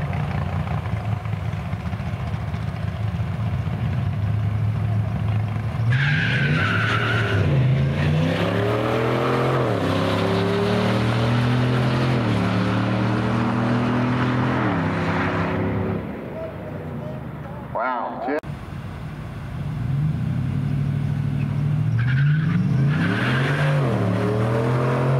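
A 1993 Chevrolet Silverado C1500 pickup runs at Barona Drag Strip, its engine loud and near, revving in repeated rising sweeps with a brief drop-off near the end.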